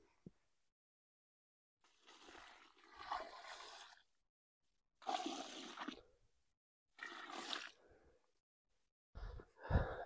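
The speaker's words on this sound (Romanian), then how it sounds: "Puneți apă" Water is poured from a container onto a newly planted red gooseberry bush in a garden, heard as several separate splashing bursts with pauses between them.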